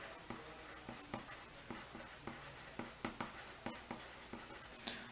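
Pen strokes scratch quietly across a worksheet while 4th grade math problems are worked, in short rhythmic bursts with brief pauses between marks.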